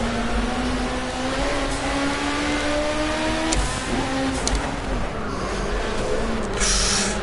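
Engine drone of a race car in Project Cars, with a second car's rising whine audible behind the player's own steady, continuous engine note that shifts pitch as gears change.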